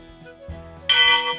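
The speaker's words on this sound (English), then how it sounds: "That's a really loud bell!" A large, loud bell rung by pulling a rope gives one sudden bright clang near the end, ringing on after a few soft thumps and creaks.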